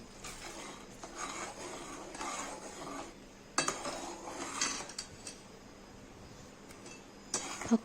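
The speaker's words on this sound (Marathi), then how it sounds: "यामध्ये मी एक वाटी भिजलेला शाबुदाना घालणार आहे याला छान असं परतून घेणार आहे" Soaked sago pearls being sautéed in a pan for sweet sago kheer, with a spoon scraping and clinking against the metal in irregular bursts, some louder knocks standing out over a low background hum.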